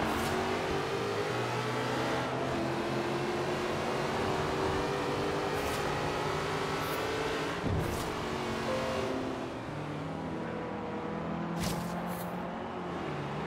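Continuous loud engine revving with tire squeal from a car doing burnouts in Forza Horizon 3, rising and falling pitch sustained throughout with brief dips.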